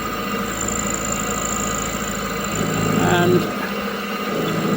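A mini milling machine spinning at about 1000 rpm cuts a custom motorcycle trike headlight bracket, giving a steady close motor drone with a slight rise in tone partway through. A voice speaks briefly.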